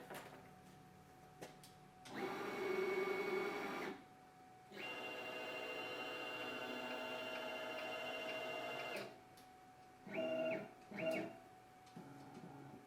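A CNC router's stepper motors whir as the machine traverses toward its start position at the far left corner of the stock, with steady sustained droning tones broken by short pauses and brief stop-start bursts near the end.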